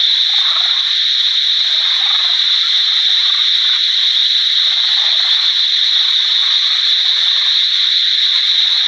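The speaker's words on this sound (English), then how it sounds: "It is a sound emitted by a lot of frogs." A dense chorus of many frogs trills continuously, a loud, even high-pitched drone of overlapping calls with no pauses.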